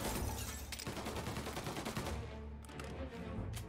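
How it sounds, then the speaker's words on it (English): Rapid enemy gunfire in Mafia: Definitive Edition crackles in dense overlapping bursts, loud and continuous throughout the short stretch, with no talk over it. "Oh, he's shooting through the box."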